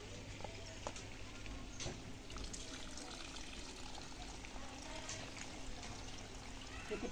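Garden plants, including a flowering periwinkle, are watered in summer; a continuous trickle and pour of water runs steadily over faint outdoor background noise.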